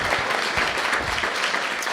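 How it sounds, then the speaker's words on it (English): An audience at a live podcast recording in Germany applauds in a steady wash of clapping that stays even and fairly soft for the whole stretch, with no voices over it. "give them all a big round of applause."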